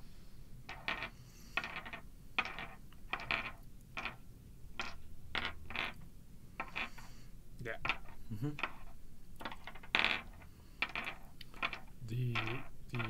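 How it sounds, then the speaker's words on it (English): Dice rattle and clack on a table during a card game, a series of sharp, quiet clicks scattered through the scene, with a voice speaking briefly. "dice is probably slightly audible"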